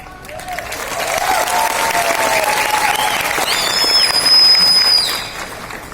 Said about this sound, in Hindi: ये तालियां हम क्रिएट कर पाए हैं